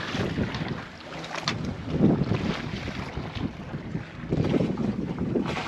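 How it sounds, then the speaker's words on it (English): Steady wind rush and water wash around a sailboat under way in a light 6-knot breeze and swell off Catalina Island, a continuous airy roar with gusty swells in loudness, no talking. "Enjoying a nice light breeze. We got 6 knots of wind."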